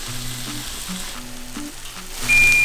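Spinach feta turkey patties sizzling in a hot pan, a steady close frying crackle under a quiet repeating electronic beeping tune, growing louder at the end.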